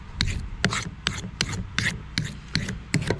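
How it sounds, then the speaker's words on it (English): A knife is drawn across a sharpening stone in about eight rhythmic, evenly spaced rasping strokes, close and distinct, with no talking. "Sharpen the knife up, I mean."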